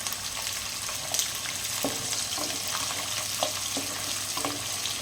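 Garlic and mustard seeds frying in coconut oil for a mango pickle while being stirred, a continuous close sizzle with soft scraping knocks from the spoon, no voices.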